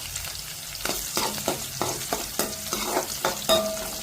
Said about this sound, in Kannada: ಈರುಳ್ಳಿನ ಚೆನ್ನಾಗಿ ಫ್ರೈ ಮಾಡಬೇಕು, ಗೋಲ್ಡನ್ ಕಲರ್ ಬರಬೇಕು